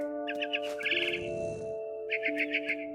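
Small birds chirp in short, bright bursts in a tree scene from the video game What Remains of Edith Finch, several quick twittering runs over a steady tonal music bed, with no talk.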